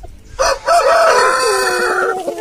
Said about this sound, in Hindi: यहाँ पर ये मुर्गे हैं, बहुत सारे मुर्गे और मुर्गियाँ